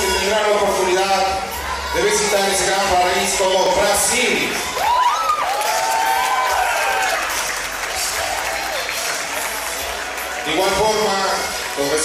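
Warm applause from a gathering of families greeting Brazilian exchange students at a Rotary exchange event, clapping mixed with loud voices and shouts throughout.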